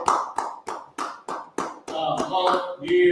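A class claps hands in a rapid series of sharp, evenly spaced claps, then breaks into looser, overlapping clapping as voices chatter over it.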